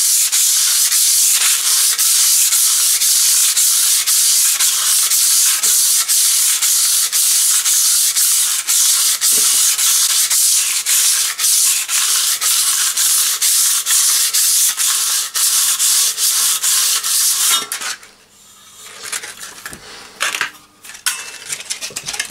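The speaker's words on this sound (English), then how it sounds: "take your sandpaper and then the same, keeping it flat on the edge, backwards and forwards on that way" Sandpaper rubs back and forth along the edge of a new steel trowel in continuous, loud, scratchy strokes for most of the time, then thins to quieter, intermittent scraping near the end.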